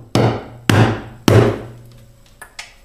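Three sharp, ringing hammer blows land on a metal wheel hammer while working on a CARB gas can, each strike close and loud with a decaying ring, followed by two lighter taps.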